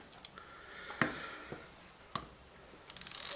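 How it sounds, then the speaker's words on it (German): Exakta Varex camera film advance being wound, with a few crisp mechanical clicks and ratcheting ticks spread over a few seconds and a faster run of small ticks at the end, close and fairly quiet. "Ein letztes Mal ganz aufziehen."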